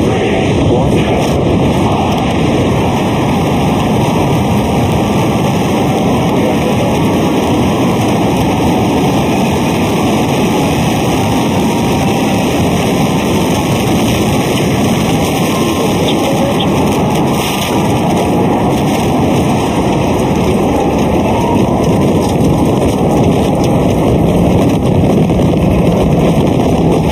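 SpaceX Starship Super Heavy rocket on its third test flight, launching with a loud, sustained, broadband roar and crackle that holds steady throughout, heavy and dense like continuous thunder.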